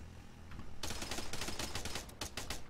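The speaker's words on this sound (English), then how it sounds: "Run towards the gunfire." Gunfire in the military game Arma, a burst of rapid shots that starts suddenly after a moment of quiet and continues as sharp, repeated cracks, fairly faint and distant, with no voices.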